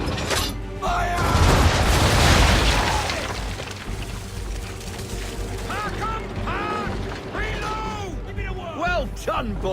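Ship cannons firing round shot in Assassin's Creed III naval combat: a loud, rolling volley of booms and crackling blasts builds and fades, followed by creaking wooden mechanisms and shouted voices over the ongoing rumble.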